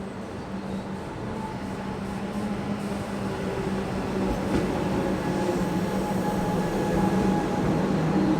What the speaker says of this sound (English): Our train to North Williamstown was an EDI Comenge set